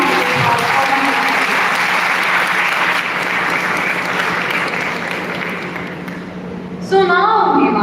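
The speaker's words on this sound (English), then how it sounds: "Can we once again have a huge round of applause for them?" A live audience applauds a stage performance at a public event. The clapping is loud, dense and sustained throughout, dipping slightly before swelling again near the end.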